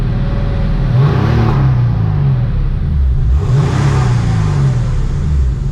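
A Porsche 993's engine revs twice in loud, close, rising and falling swells over a constant deep idle rumble, with no voices.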